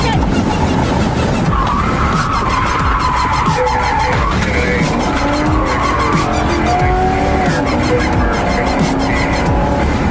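A car drives hard with tires skidding and squealing loudly and continuously, the engine roaring close by throughout while voices are heard over it.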